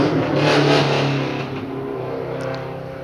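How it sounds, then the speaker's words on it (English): A Subaru race car accelerates up a hillclimb course at the Legend of the Lakes event, its engine revving loudly at first and then fading as it pulls away into the distance. "his Subaru's heading up that hill"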